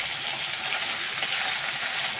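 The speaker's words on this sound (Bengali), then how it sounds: "তো এইদিকে মাছ ভাজাটাও উল্টে দিই," Fish frying in a pan, a dense, continuous sizzle with faint scraping as the pieces are turned, close and steady with no talk.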